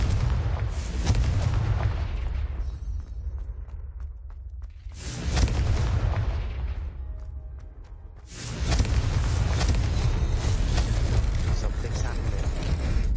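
Loud booming blasts from the Confringo fire spell in Hogwarts Legacy, three heavy explosive bursts with rumbling tails and short quieter gaps between them.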